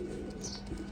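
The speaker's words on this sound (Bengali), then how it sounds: "এই যে এক পেয়ার প্রিন্স কামাগার কবুতর গাইস" A pair of Prince Kamagar pigeons coo softly in one brief, low, close burble, with a faint chirp over it.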